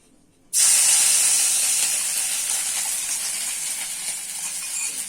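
Ginger garlic paste hits hot oil in a pan for idli manchuri, bursting into a sudden loud, sharp sizzle that keeps hissing steadily and slowly eases off, with no talk.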